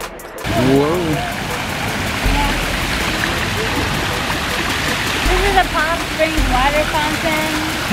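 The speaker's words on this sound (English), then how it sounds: "This is a Palm Springs water fountain." A water fountain in Palm Springs splashes and rushes in a steady, close wash of falling water that runs throughout, with people talking over it.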